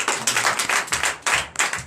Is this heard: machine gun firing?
no